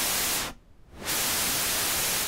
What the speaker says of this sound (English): you can just use the noise feature over here, which is just white noise